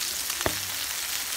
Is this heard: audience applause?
no